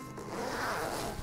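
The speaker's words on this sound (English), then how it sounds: "carefully zip up the carrier to the top." A K9 Sport Sack dog backpack carrier being zipped up to the top, one steady continuous zipper rasp lasting over a second, close and alone.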